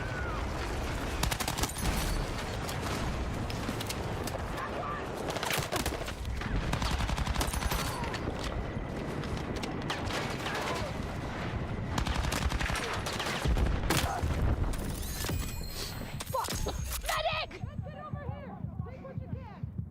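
Rapid bursts of SL9 submachine gun fire in Battlefield 6, loud and continuous with dense overlapping shots and battle noise, while a voice talks over it.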